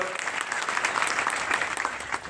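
Loud, sustained applause from a crowd at a political rally, a dense wash of clapping that holds steady throughout without a break.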